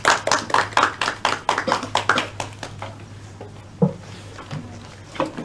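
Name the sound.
classroom clapping for a group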